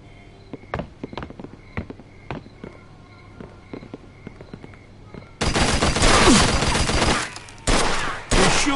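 Gunfire from the video game Mafia II: a run of sharp, separate shots at first, then a dense, loud burst of rapid automatic fire, a short break and a second loud burst.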